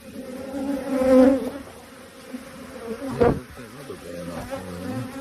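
Honey bees from an April swarm in Maryville, Tennessee buzz close by around a queen cage as she is released, the droning swelling loud twice over a steady hum.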